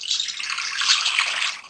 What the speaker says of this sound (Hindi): देगची के अंदर डाल देंगे पानी